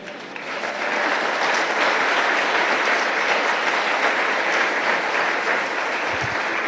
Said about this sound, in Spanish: ¿Usted cree que Dios merece un aplauso?